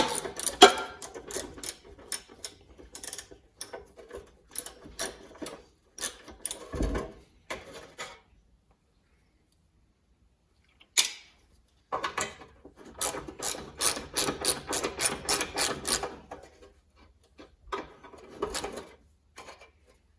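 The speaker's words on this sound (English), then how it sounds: "mine is wrenching off a little bolt, and I can use a ratchet." A ratchet wrench backs off a small bolt on a seized engine of a 1974 Toro, with repeated close clicking bursts separated by pauses and a quiet stretch, no talking.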